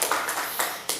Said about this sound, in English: Every birthday deserves an applause, doesn't it?